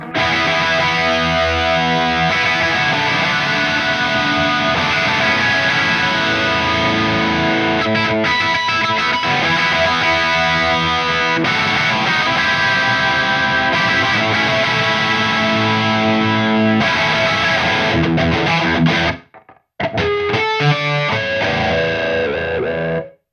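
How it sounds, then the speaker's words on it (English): Electric guitar through an Eventide pedal, with heavy distortion and washy reverb and delay, plays continuously and loud in stereo, briefly dropping out near the end before resuming. "Bring in a little bit of reverb there, maybe a little bit of delay, a little more gain."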